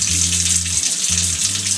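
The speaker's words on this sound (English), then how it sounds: "I rinse all the product out of her hair. It's lukewarm water" Lukewarm tap water runs steadily as it rinses styling gel and product out of a child's curly hair, a continuous close gush with a low hum beneath, briefly interrupted once before resuming.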